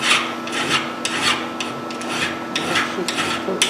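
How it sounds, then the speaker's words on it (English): A metal file rasps rivet wire down flush with the surface on a surface grinder being repaired, giving repeated scraping strokes at an even pace, moderately loud and close, with no voices. "and just file it off"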